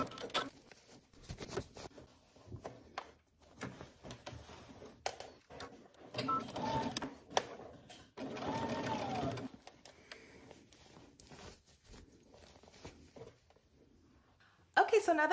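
A sewing machine stitches two fabric pieces together for a garment, running in bursts of fast mechanical whirring with short pauses between them, close by, with a voice heard faintly at times.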